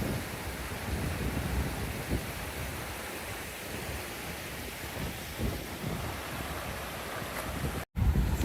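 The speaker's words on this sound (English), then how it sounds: "So many waterfalls, streams, whatever you want to call them." Waterfalls and mountain streams near Aoraki / Mount Cook in New Zealand give off a continuous broadband rushing roar, steady throughout with one brief dropout near the end.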